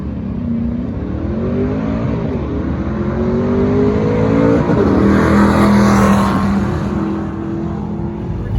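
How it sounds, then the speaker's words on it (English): A modified drag-prepped car accelerates hard at a track day with a slipping clutch, engine pitch climbing in long sweeping rises and flaring near the end, loud and steady throughout with no talk. "I think it slipped the clutch that time"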